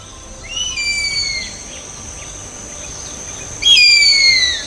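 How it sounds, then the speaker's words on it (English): A harpy eagle in the Amazon rainforest gives thin, high, descending whistled calls: a fainter series first, then after a pause a louder, nearer burst, over a quiet hissing forest background. "The harpy eagle, ruler of the Amazon sky."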